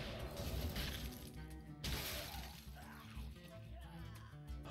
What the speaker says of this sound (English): So let's try shattering.